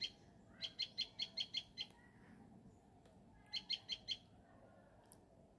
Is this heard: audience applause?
no